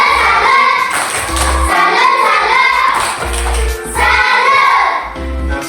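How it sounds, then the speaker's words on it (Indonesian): A class of students claps a rhythmic salute in a school lesson, several bursts of loud patterned clapping in quick groups, close and lively. "Tepuk salut untuk Ian dulu."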